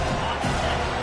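Home crowd at a football game cheering and roaring as the defense tries to get off the field on third down, a steady dense wall of noise filling the whole second with a brief swell near the middle.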